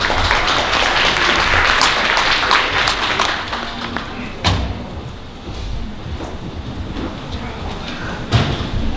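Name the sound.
audience applause welcoming a speaker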